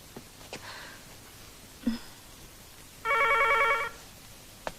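A telephone bell rings in one short burst of rapid trilling amid a quiet room, with a few faint knocks and clicks before and after it; nobody speaks.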